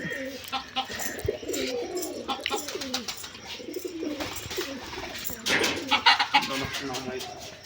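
Giribaj pigeons fly and coo close by, with soft repeated cooing calls and fluttering wing sounds over a busy background, and people talking faintly.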